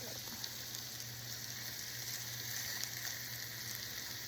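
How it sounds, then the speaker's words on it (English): Salisbury steak patties sear in a hot pan, giving a steady, even sizzle with no voices and no pauses. "sear them 2 minutes per side"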